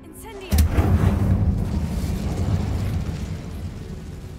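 A fiery blast from the Incendio spell in Hogwarts Legacy, cast as a sudden loud whoosh-boom that settles into a sustained roaring, crackling rumble of flame for several seconds.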